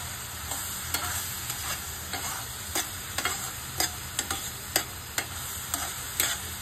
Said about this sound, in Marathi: आता हा गॅस बारीक ठेवूनच आपल्याला हे मिश्रण ढवळत राहायचं आहे.